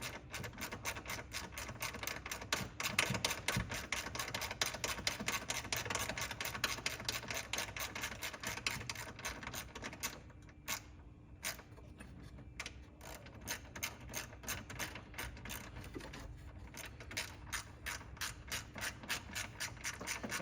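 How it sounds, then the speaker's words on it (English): A ratchet tightening a long bolt on a Ford Bronco, heard as a faint, rapid, steady train of mechanical clicks with light scraping, quiet and close, with no talking. "I'm gonna go ahead and run this 13 all the way in and tighten it"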